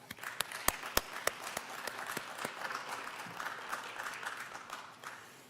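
Audience applause at a school district state-of-the-schools address, opening with a few sharp, separate claps that swell into steady, fairly quiet clapping before tapering off.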